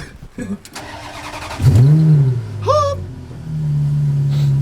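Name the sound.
straight-piped Ferrari F430 engine starting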